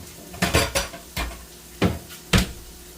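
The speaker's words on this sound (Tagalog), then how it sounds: "Hanap muna ako ng takip ng ating kaldero" A metal lid on a cooking pot in a home kitchen is picked up and set down, giving several sharp clanks and clatters spaced over a few seconds, close and fairly loud with no talk.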